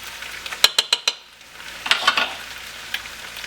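Pork hitting a pan of sautéed onions for pork curry: a quick run of sharp clinks and taps, then a brief burst of sizzling that settles into a low, steady crackle.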